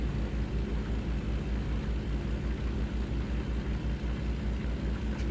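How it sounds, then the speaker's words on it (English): Rain drums on a moving truck in a steady broadband hiss over a deep, continuous engine and road rumble that holds evenly throughout, with no talking. "Listen to the rain hitting, listen to the truck,"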